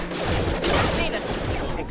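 Rapid gunfire in the video game Mass Effect 2, a dense, loud burst of shots running through the whole moment with combat noise and little pause.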